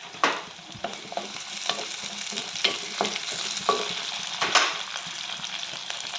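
Green chillies sauté in a pan for a coconut prawn and pumpkin curry, crackling and sizzling close by while a utensil stirs and scrapes in irregular bursts.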